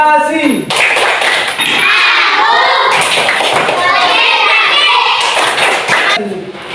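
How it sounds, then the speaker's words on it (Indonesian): Schoolchildren in a classroom chanting and clapping through the tepuk konsentrasi routine, loud rhythmic claps in groups mixed with young voices. "Tepuk konsentrasi."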